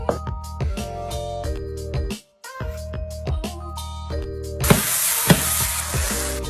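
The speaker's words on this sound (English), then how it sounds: "Now let's go saute the zucchini and the onion." Zucchini and onion sautéing in a pan, heard under prominent background music, with a brief pause and then a louder burst of sizzling with a few sharp pops over the last couple of seconds.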